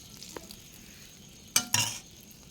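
Egg paniyaram batter frying in a paniyaram pan, with a faint tap early on and then two short, louder sizzling bursts close by, separated by a brief gap, over a quiet kitchen background.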